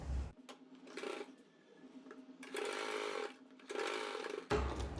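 Hand-fed sewing machine running a loose basting stitch on a blouse, sounding in three or four separate bursts of steady whirring with a low motor hum and short pauses between, close and fairly loud.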